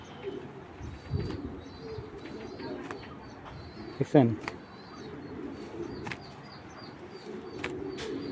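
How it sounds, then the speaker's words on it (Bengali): A racing pigeon coos softly, with a short burst of flapping wings near the middle, while someone talks over it. "আবার দেখেন কবুতরটা, এই দেখেন"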